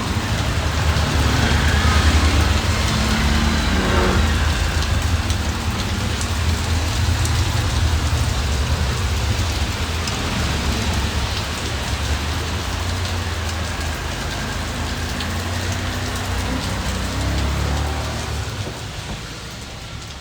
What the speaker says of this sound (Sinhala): මෙතන වැස්සනේ